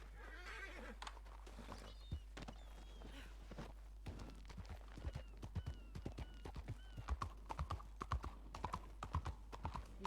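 A horse in a video game neighs and then walks, its hooves clip-clopping in an even, repeated rhythm that is close and clear over a low steady hum.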